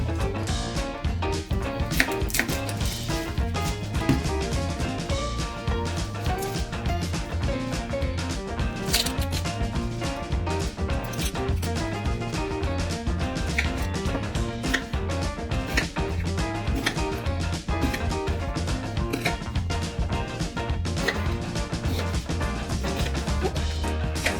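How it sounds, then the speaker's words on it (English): Knife chopping an onion on a cutting board, producing steady, rapid close taps in a continuous rhythm with no talking. "Now, chop your onion."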